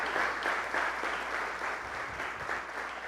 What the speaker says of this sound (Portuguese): Dê uma forte salva de palmas para Jesus.